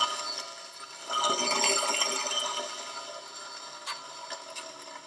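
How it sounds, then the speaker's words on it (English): A TiltGrind Cremulator, new 2021 edition, grinding cremated bones, giving a loud gritty rattling and churning that swells in the middle and eases off, with a few sharp clicks near the end. "I like to move it back and forth when I'm grinding the bones"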